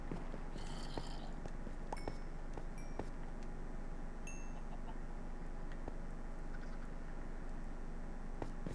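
Cat purring in a Minecraft-style video game at night, a steady soft rumble running throughout with faint clucking chicken sounds and small clicks nearby, no speech.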